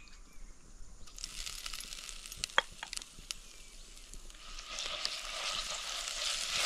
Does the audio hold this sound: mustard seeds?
yes